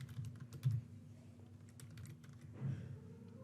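Soft clicks of typing on a computer keyboard come in a quick, irregular run, faint and close, with a low room hum underneath and no talking.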